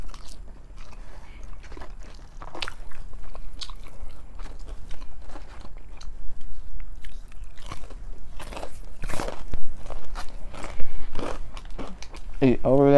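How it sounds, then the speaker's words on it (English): Someone bites and chews fried potato fries dipped in ranch and ketchup at close range, with repeated soft crunches and wet mouth sounds throughout, and a voice talks briefly near the end. "I just love eating ranch with my fries."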